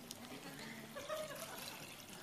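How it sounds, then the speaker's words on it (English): Filthy water gurgles and trickles as it is poured into a water-purifying bottle, a soft, close, brief pour heard quietly in a hall. "So I'm going to take this really filthy water and put it in here."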